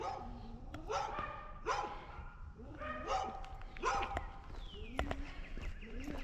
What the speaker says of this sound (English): We've got some doggy friends over there.